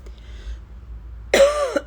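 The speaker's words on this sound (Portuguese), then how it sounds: "desculpa, ainda estou tossindo" A single short cough rings out close by after a moment of near silence.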